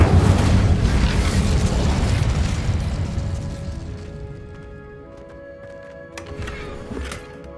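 An Incendio fire spell blasts in Hogwarts Legacy, a loud booming burst that rolls off into a fading rumble, followed by quieter magical chimes and tinkling effects.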